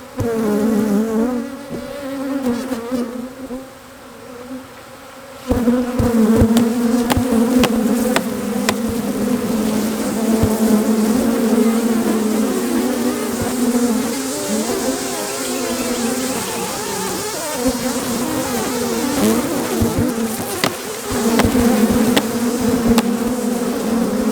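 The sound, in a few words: swarm of bees at a hive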